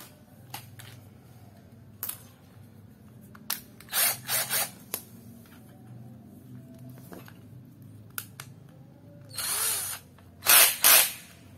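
Short bursts of a power drill starting and stopping repeatedly, drilling an air passage in a PWK 28 carburetor for a Suzuki Satria FU, over a steady low background hum, with louder whirring runs near the end.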